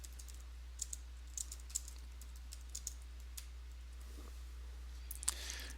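Faint, sparse keystrokes tap on a computer keyboard in a quiet room as text is entered, in short irregular bursts over a low steady hum.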